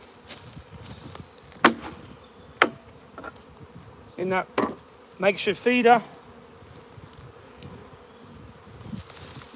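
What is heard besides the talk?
honey bees buzzing while being shaken into a nuc hive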